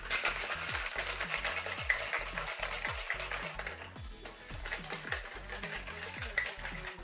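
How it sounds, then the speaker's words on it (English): A Porn Star Martini being shaken vigorously in a cocktail shaker, ice rattling in a fast, steady rhythm of repeated knocks close up, continuous for several seconds with no talking. "so then we shake this up, and you want to shake it really good and vigorously"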